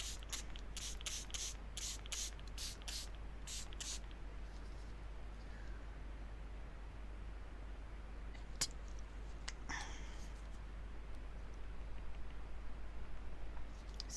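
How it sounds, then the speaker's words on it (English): A spray bottle gives a rapid series of short pumped hisses up close, spraying water onto card paper, then quiet rustling and a few faint clicks follow. "Again, I'm going to spray that."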